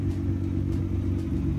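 A Nissan GT-R Nismo with titanium exhaust idles with a deep, steady exhaust rumble, loud and close, with no clear revving.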